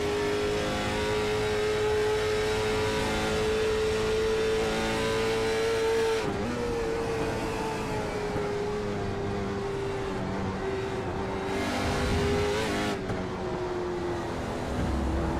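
Race car number 07 heard from onboard during a Can/Am series race at Mosport, its engine roaring loud and steady with a high sustained pitch, shifting gears and changing revs around six and thirteen seconds, with no talk.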